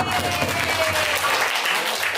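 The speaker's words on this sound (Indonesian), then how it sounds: "Tepuk tangan untuk Pak Darto." Applause for Pak Darto during a classroom or training session on positive culture, a steady dense clapping from a group that fills the whole moment without a pause.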